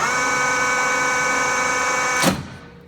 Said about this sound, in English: you need to move the job backwards and forwards the full length of the stone to get a nice even cut.